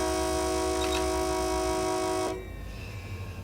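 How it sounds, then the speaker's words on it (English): Train sounds in the Run8 Train Simulator game: a steady, loud horn-like tone over rumbling rail noise that cuts off partway through, leaving a lower rolling rumble, with no talk. "Wow, listen to those train sounds."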